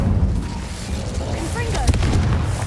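A fire spell is cast in the game Hogwarts Legacy, giving a dense, rumbling whoosh of flame with crackling bursts, layered over a voice calling out.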